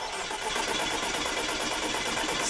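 A car engine cranking on the starter during a compression test, a fast, even, rhythmic chugging that runs the whole time without catching, fairly loud and close.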